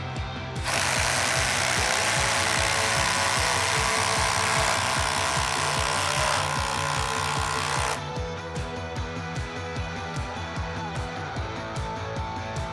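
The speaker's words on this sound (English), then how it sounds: "now the last of our tests with the impact driver, we are going to do a 5-inch SPAX." A Milwaukee M12 impact driver sinks a 5-inch SPAX screw with loud, rapid hammering impacts for several seconds, then drops to a lighter, steadier buzz as the screw finishes, close and alone.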